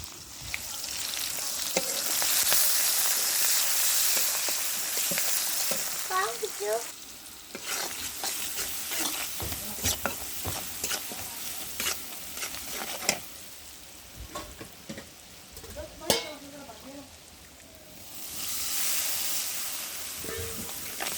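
A vegetable and fish curry with potato, beans, cauliflower and tomato being stir-fried in a pan, with steady sizzling, repeated scraping stirs and clinks, louder bursts of frying at the start and end.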